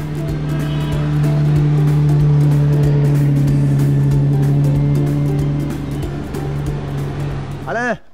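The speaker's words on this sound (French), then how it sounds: "Une voiture qui est de 1954, qui a été extraite de la Suisse" A vintage 1954 car, brought over from Switzerland, runs with a loud, steady engine drone and some road noise, while people talk over it, ending in a brief sweeping whine.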